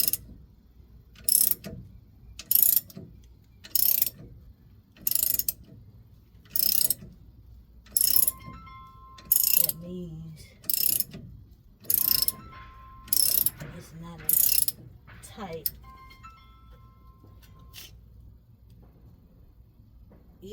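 Matco ball joint press turned by hand, giving a long run of regular ratcheting clicks, loud and close, spaced about a second apart, with faint metallic creaks and tool noise between the bursts.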